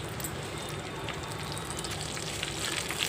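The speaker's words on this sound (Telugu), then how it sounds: "తాలింపు అయితే వేగిపోయింది." Spice tempering for a homemade pickle frying in hot oil, a steady close sizzle and crackle running without pause, with no voices present.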